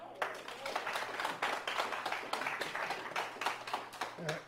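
Seminar audience clapping to thank a speaker after a question session, a loose patter of hand claps spread across the room at moderate level, with faint talk underneath.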